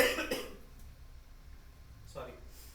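Two short coughs sound close by, one at the start and one near the end, separated by quiet room tone.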